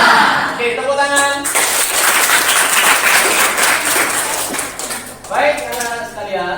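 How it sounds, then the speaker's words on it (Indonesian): High school students clap together in a classroom, a burst of dense hand clapping with a teacher's voice and cheering at the start and end. "Oke, tepuk tangan."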